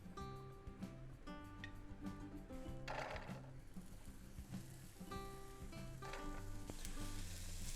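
Meatballs with onion and carrot fry gently in a pan for an authentic Italian recipe, a soft, low sizzle heard under music with a tonal melody.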